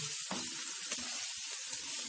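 Pasta sauce with melted processed cheese sizzles in a frying pan, a steady close hiss of hot fat with a few soft stirring knocks and no talking.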